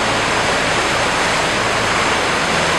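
The Magnetawan River rushes through a mountain chute at unusually high water, a loud, constant roar of whitewater rapids heard up close with no voices.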